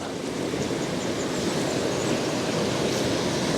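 Loud, steady rushing water filling the space, a constant close roar of flowing current with no pauses.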